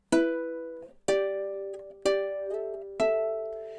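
A ukulele plays measure 5 of a riff high up the fretboard: four ringing plucked notes, about one per second, each sustaining until the next, close and clear with nothing else heard.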